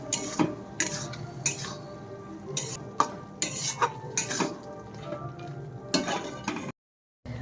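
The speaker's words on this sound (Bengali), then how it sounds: "এবার আলু দিয়ে আবারও একটু নাড়াচাড়া করছি" Fried potatoes and peas are stirred in a pan with a utensil, giving repeated scraping and clattering strokes over a soft sizzle, with a brief silent break near the end.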